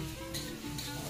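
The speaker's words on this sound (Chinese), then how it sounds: "再放一些葱头爆香，炒好水的红萝卜青豆放下去" Shallots, carrots and green peas sizzle in a hot wok with oyster sauce and water as they are stir-fried. The quiet, steady frying hiss has two brief brighter bursts.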